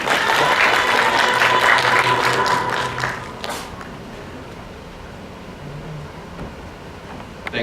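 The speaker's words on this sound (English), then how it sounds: "Please give a round of applause for Mr." A conference audience gives a round of applause for a keynote speaker, a dense burst of clapping over about three seconds that tapers off into quieter room noise.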